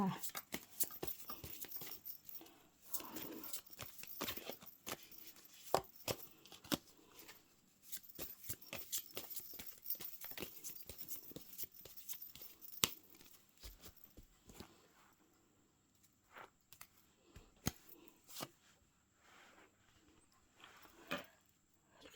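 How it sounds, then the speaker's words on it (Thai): Fortune-telling playing cards are shuffled by hand, a series of soft, quick riffling and slapping flutters close to the microphone, coming in bursts with pauses, under a woman's quiet speech. "ขอเป็นตัวแทนสับไพ่สับไพ่ให้คนเกิดวันอาทิตย์ค่ะ"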